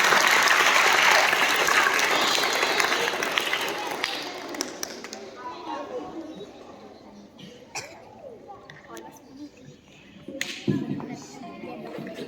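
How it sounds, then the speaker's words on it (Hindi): Audience applause at an inter-house school poetry recitation contest, a loud burst of clapping that gradually thins into scattered claps and murmuring, with voices talking and a few thuds near the end. "तो मैं चाहता हूँ कि एक बार जोरदार तालियां सभी के लिए।"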